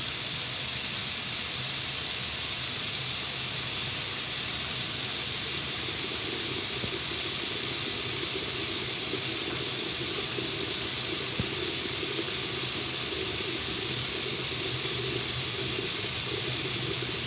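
Tap water runs steadily at close range for the whole stretch, a continuous hiss and splash into a sink during handwashing, with no talking over it.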